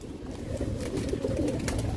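Pigeons at a Bengali pigeon collection give soft, low continuous cooing close by, a steady murmuring bed with no speech over it.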